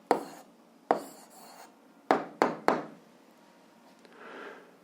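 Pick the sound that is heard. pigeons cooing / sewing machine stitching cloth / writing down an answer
writing down an answer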